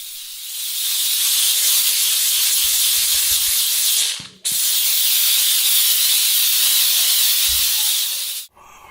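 A Harbor Freight steam cleaner steaming dirty grout on a tile floor gives a loud, close, steady hiss in two long bursts, with a brief break between them and a short knock at the end.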